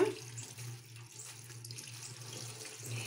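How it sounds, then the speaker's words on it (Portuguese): Running tap water pours steadily over biquinho peppers in a kitchen sieve, a close, continuous splashing rinse with a slight rise in intensity toward the end, no talking. "aí você abre a torneira,"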